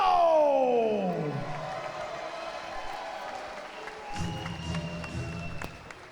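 Crowd at a kombat taekwondo fight night in Guadeloupe applauding and cheering for a local fighter; a steady wash of clapping and crowd noise runs throughout, with a falling tonal sweep at the start and a lower rumble joining near the end.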